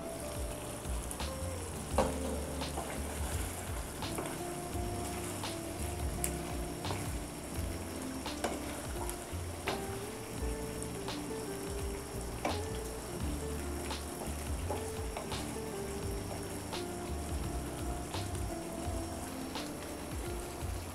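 Katla fish curry simmers covered in a pan with tomato sauce added, giving a faint, steady sizzle and soft bubbling that carries on evenly without talk.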